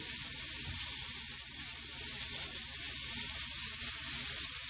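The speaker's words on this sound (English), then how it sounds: "now I am putting this onion and mushroom, and I'll saute" Chopped onion and mushroom sauté in a teaspoon of oil in a pan, giving a steady, even sizzle that holds at a constant level throughout with no voices.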